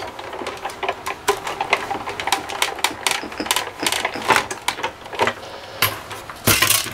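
A manual die cutting machine cranks paper through for embossing between two B plates and a mat. It makes a close, rhythmic run of clicking, rattling mechanical sounds, with a louder grinding burst near the end.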